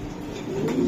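Racing pigeons coo softly in a brief, steady burst, close by with a faint background hum and no voices.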